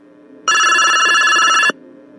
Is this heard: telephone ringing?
yes